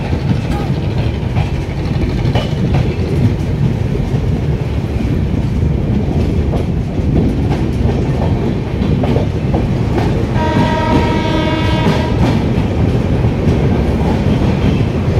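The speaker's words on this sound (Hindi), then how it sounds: "ये हम लोगों की ट्रेन अनबरगंज से निकलती हुई तेज रफ्तार में" An Indian train with a Duronto livery AC coach runs at speed through Unnao-area track. The loud, continuous rumble and clatter of the wheels lasts throughout, and a horn sounds toward the end.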